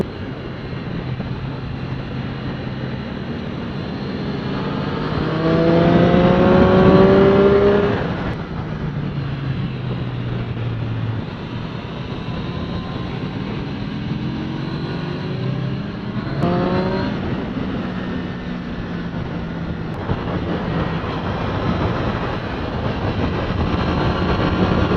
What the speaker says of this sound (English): Short shift, hard, full throttle, out wide, and brake.